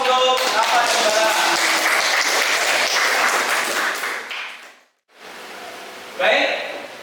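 Classroom applause for two students during a micro-teaching lesson, a dense burst of many hands clapping for about four seconds that fades out, followed by a quieter pause and a short rustle.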